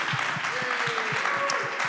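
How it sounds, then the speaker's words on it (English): An audience at a voter town hall claps in a steady patter at moderate volume. A faint tonal whine drifts underneath the applause. "Y'all can go ahead and clap."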